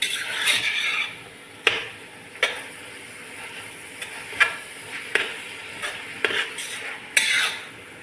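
A metal spoon stirs prawn curry in a pan, scraping and clinking against the metal in sharp separate strokes about once a second over a soft steady sizzle, with no talking.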